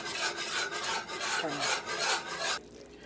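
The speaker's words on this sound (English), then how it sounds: "we want to whisk it until we get all the flour in there" Flour being whisked into a gumbo roux in a pot, a brisk, rhythmic scraping and rasping of the whisk in repeated strokes, close and steady, then stopping abruptly near the end, with no voices.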